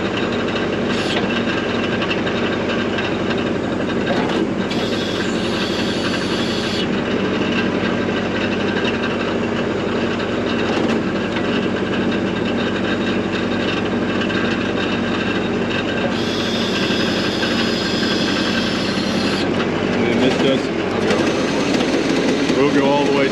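A backhoe engine runs steadily at high RPM throughout while the machine digs holes, a loud continuous diesel drone with brief hydraulic whines rising over it; a person talks over the engine.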